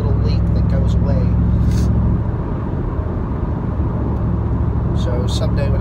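A 1997 Chevrolet Camaro Z/28 with a 285 hp LT1 V8 idles loudly and steadily, with a small passenger-side header or exhaust manifold leak adding a faint ticking hiss over the constant close engine rumble.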